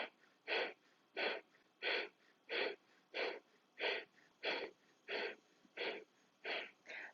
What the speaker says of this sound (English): it's an active exhalation through your nose with a pumping of the belly.